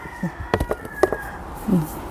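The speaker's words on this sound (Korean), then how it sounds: "대단한 수탉들이에요" Roosters crow in a chorus around dawn, several short calls rising at intervals with no talk over them, one crow near at the end and others more distant, while a gardener pots succulents.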